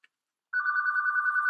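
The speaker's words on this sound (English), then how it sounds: "Please excuse my house phone." A house phone rings indoors with a clean, pulsing electronic trill that starts after a short silence and holds steadily, fairly close and alone.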